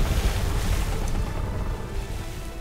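A sailing ship on open water in the Atlas video game, a continuous broad rush of waves and wind with a low rumble, steady and fairly loud throughout, with no talking.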